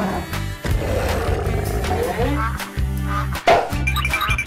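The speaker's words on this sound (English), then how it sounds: "Godzilla." A loud, sustained monster roar in the style of Godzilla rumbles through nearly the whole stretch, with a few brief breaks and harsh peaks, set against a busy toy-play background.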